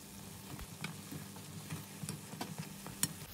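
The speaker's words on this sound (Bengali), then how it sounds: "এখন আমি ডোনাটগুলো ভেজে নিচ্ছি।" Pumpkin donuts fry in oil with a soft, continuous bubbling sizzle, faint and close, dotted with small irregular pops and one sharper crackle.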